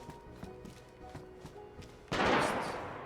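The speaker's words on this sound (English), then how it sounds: "That was a gunshot." A single distant gunshot cracks out in DayZ on the hardcore Namalsk map, a sharp burst that opens a long, broad rolling echo after a stretch of faint, soft ambient thumps.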